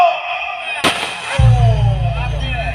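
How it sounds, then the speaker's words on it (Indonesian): A sharp gunshot effect cracks out in a Sundanese wayang golek puppet show, a single bang followed by a low droning rumble and tonal gamelan-like notes, with a puppeteer's voice in the background. "Ditembak. Awas tembak."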